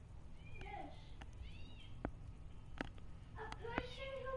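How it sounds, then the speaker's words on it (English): Kitten meowing in Assassin's Creed Valhalla, several short high mews scattered across a few seconds over a low background hum, with faint clicks between them. "A person who finds a kitten."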